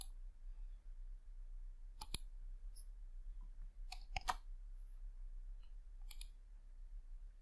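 A computer mouse gives a few sharp, isolated clicks, spaced seconds apart over a quiet low hum, with no speech.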